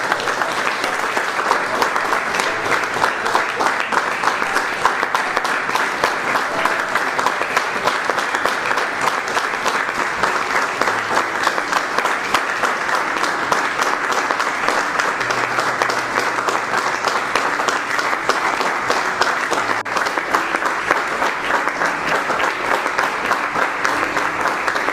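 An audience applauds an honoured guest at a stage event, a dense, steady roar of many clapping hands sustained loudly without a break for the whole stretch.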